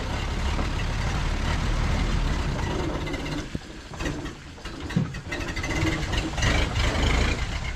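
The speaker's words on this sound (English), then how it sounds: "So we got the old truck up running and driving after, you know, 31 years or 30 years around there." A 1931 Ford Model AA 1 1/2 ton truck, back in running order after some 30 years off the road, runs with a loud, steady engine rumble, dipping briefly midway before rising again.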